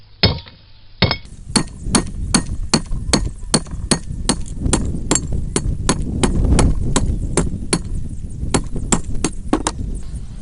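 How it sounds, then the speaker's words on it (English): Rapid, regular hammer blows on hot steel on an anvil while forging a knife, one sharp clang after another with a bright metallic ring, close and loud. "Now I'm just going to make sure I keep the edge of it nice and even as I hammer it."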